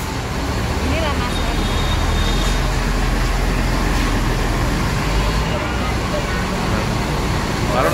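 Buses idle and pull away at a busy Rapi bus station in Palembang, a steady loud diesel rumble with traffic noise filling the whole stretch and no clear pauses.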